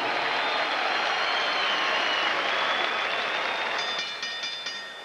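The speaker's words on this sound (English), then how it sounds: "a round of applause and a wish for speedy recovery to the Paz" Boxing arena crowd applauding for a recovering boxer, a broad sustained wash of clapping and crowd noise that thins and fades toward the end.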